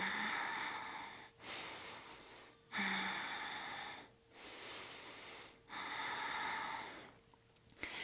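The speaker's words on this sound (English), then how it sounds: "Deep breathe. Deep breathing." Slow, deep breaths during a yoga backbend routine, three long airy inhale-exhale cycles close to the microphone with brief quiet gaps between them.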